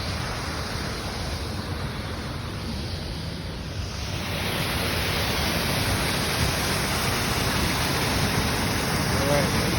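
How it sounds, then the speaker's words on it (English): Big waterfall on Hassen Creek in a nature preserve near the old Lehigh Portland Cement Company site, a steady broadband roar that grows louder and fuller midway as the listener moves closer. "There it is. Big waterfall."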